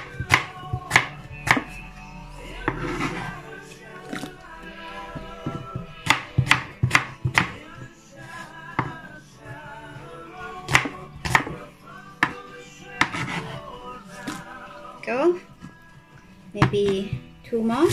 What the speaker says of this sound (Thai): Then we chop in a square piece like this, and then put in our salt water.